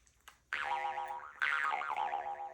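A jaw harp twanged twice, each note ringing with a wavering vibrato in its overtones, close and sustained with no talk.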